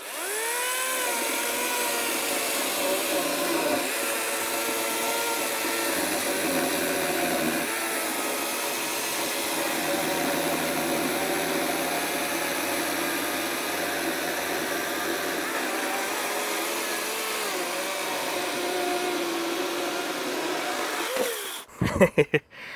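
A HANABI 40V brushless battery chainsaw with a 16-inch bar cutting through dry wood about 25 cm thick, giving a steady, loud, close motor whine that holds for about twenty seconds before stopping abruptly.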